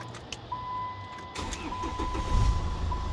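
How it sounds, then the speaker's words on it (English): A car engine cranks and catches, then settles into a steady idle after a repair that cleared air from the fuel lines, loud and close with a thin electronic tone running throughout. "Now it starts like a normal car."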